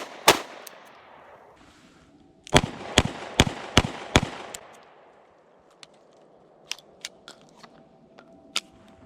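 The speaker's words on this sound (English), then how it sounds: "We're just going to point shoot the gun as fast and hard as we can and pull the trigger" A Taurus Public Defender Poly revolver fired as fast as possible with shotshells, a sharp burst of five loud cracking shots in quick succession after an earlier single report, followed by quieter clicks and handling noise.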